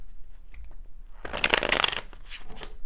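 A slippery tarot deck is shuffled close up in one quick riffling burst of about a second, with quiet before and a softer rustle after.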